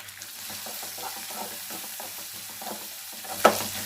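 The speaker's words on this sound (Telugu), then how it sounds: "ఇప్పుడు కొన్ని కరివేపాకులు, 1/2 టీ స్పూన్ పసుపు వేసేసుకొని ఒక 2 నిమిషాలు దోరగా వేయించుకోండి." Onion, curry leaves and turmeric fry in a pan for a potato fry, with a gentle sizzle, soft stirring scrapes and one sharp clink near the end.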